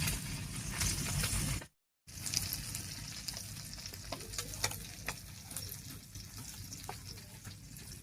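Fish sizzling in hot oil in a pan for a village-style mixed river fish curry, a steady crackling fry that runs almost the whole time with a brief gap, close and moderately loud, no talking.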